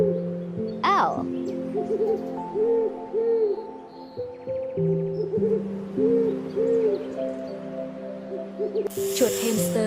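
An owl gives repeated hoots at a moderate distance across several seconds, set against a steady musical backing in a kids' animal-sounds lesson.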